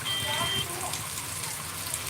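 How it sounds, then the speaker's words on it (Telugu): Steady rain in Kalluru falls with a dense, hissing patter of drops, continuous throughout at moderate intensity, with faint background voices. "చినుకులతో కూడిన వర్షం మొదలయ్యి మోస్తారు పాటుగా మారి కురుస్తున్న దృశ్యాలు ఇప్పుడు మనం చూస్తున్నాం"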